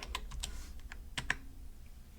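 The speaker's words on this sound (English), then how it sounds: "In cell E1, I'm going to type the word green." Quick clicking keystrokes on a computer keyboard while entering words into spreadsheet cells, a few irregular bursts of close, crisp taps with short pauses between them.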